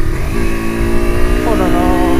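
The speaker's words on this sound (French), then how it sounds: "Tu vois là je suis à fond là j'accélère à fond là." A heavily loaded 250cc motorcycle accelerates at full throttle, its engine note rising steadily and close up with a pitch shift midway through, while a rider's voice is heard over it.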